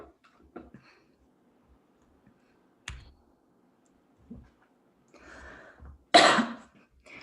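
A single harsh cough bursts out near the end of a mostly quiet stretch in a medical lecture, preceded by a few faint clicks and soft throat sounds.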